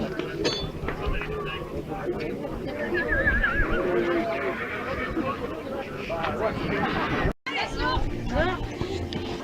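A horse whinnies amid a busy crowd at an agricultural show, with chatter and babble nearly constant throughout and a brief dropout near the end.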